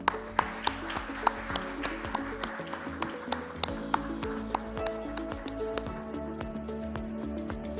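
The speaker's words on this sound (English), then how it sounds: "Round of applause, please." An audience at a post-budget stakeholder meeting in Mumbai applauds steadily, a dense patter of hand claps with sharp individual claps standing out, sustained for several seconds.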